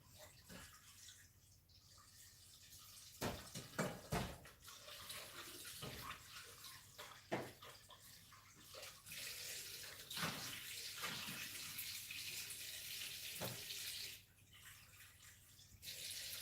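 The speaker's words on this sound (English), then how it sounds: "I'm going to wash up this bowl, and I'll use the same bowl." A bowl is washed under a running kitchen tap: a continuous rush of water with splashes and a few sharp clinks as the bowl is handled, close by.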